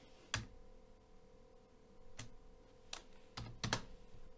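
A few scattered keystrokes on a computer keyboard, sharp close clicks in small bursts with pauses between them, fairly quiet and alone.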